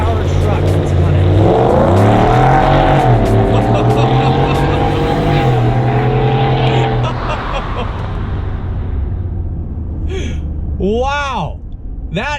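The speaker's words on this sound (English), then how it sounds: "pull on to the open road and see what acceleration feels like in a 650 horsepower truck" A 650 hp supercharged V8 Roush F150 pickup accelerates hard on an open road, its engine climbing through rising pitch and shifting gears loudly inside the cab, with an excited voice reacting over the roar near the end.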